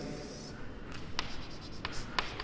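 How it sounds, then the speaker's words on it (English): Chalk writing on a classroom blackboard during a physics lesson at a pre-university college, with steady scratchy strokes and several sharper taps as the chalk meets the board, fairly close and alone. "here I will write"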